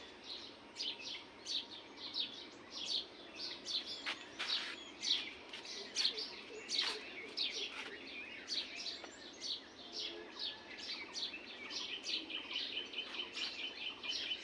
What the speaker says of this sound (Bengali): পাখির কিচিরমিচির শব্দ কিন্তু অনেক কমে গেছে,